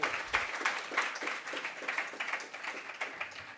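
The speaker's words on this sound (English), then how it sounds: "Big round of applause for them tonight." An audience at a university political union talk applauds steadily, a dense patter of clapping at moderate volume with a faint voice under it.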